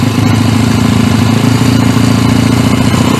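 A child's motorcycle engine runs loud and close under a little throttle, a constant buzzing drone that holds steady throughout without a break.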